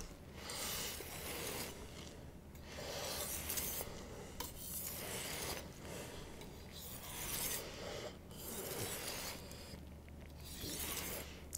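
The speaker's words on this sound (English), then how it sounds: "So now we're going to go stropping, edge trailing." A knife edge stropped edge-trailing on a Japanese Red Aoto natural whetstone, a quiet rhythmic rasping of repeated strokes, roughly one every second or two, close and faint, with no talking.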